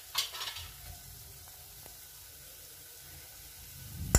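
An onion-tomato masala with a spoonful of garam masala added, stirred in a pan: a soft, low sizzle with a few faint scrapes of the spoon, quiet and close, and a louder knock at the end.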